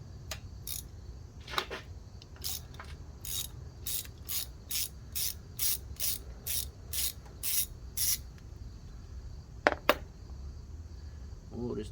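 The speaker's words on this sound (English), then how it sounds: "Grab my ratchet extension. And my spark plug socket. There we go. Now we can pop these guys out." A ratchet fitted with an extension and a spark plug socket loosens a car's spark plugs, giving a steady run of close, crisp clicks. A few louder metallic knocks and taps follow near the end.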